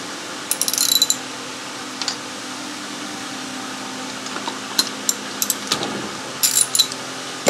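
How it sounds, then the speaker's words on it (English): A hand wrench ratchets a spark plug tight, with short bursts of crisp clicking spread across the clip, close up over a steady low background hum and no speech. "Once you get it started, do the rest with the wrench."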